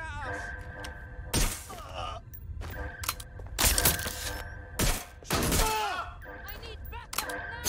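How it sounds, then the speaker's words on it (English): Gunfire in Watch Dogs: Legion, several sharp loud bursts and thuds breaking through in clusters, mixed with shouted dialogue and background game sounds. "They're shooting at us!"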